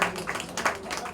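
Audience clapping at an opening ceremony, a short burst of scattered hand claps from a nearby crowd, fairly loud and uneven, with no speech over it.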